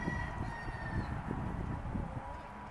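Two game hens and a rooster cluck and murmur steadily at close range, a continuous low flock chatter with no talk over it.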